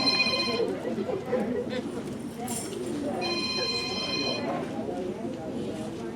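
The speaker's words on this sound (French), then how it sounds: "Le téléphone ça tellement sonné fort" A telephone rings in short repeated bursts, once at the start and again midway, heard at moderate level under room noise and a crowd.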